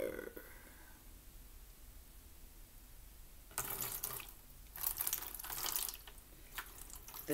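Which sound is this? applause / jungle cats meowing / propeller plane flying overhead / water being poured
water being poured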